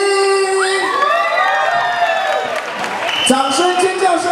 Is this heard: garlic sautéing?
no